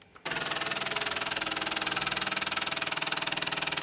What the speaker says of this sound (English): As you can see, the injectors are pulsing.